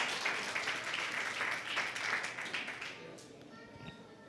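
A church congregation claps during a Bible teaching service, a fairly faint, dense burst of applause that fades out toward the end.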